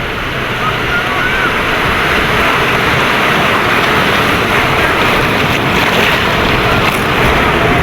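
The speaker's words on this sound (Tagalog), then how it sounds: "Lakas kasi ng alon." Strong ocean waves at a beach in La Union make a loud, continuous roar and wash mixed with wind buffeting the microphone, steady from start to finish with no clear breaks.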